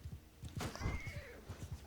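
A horse whinnies once in a short rising call, over steady rhythmic hoofbeats and faint battle noise in Mount and Blade II: Bannerlord.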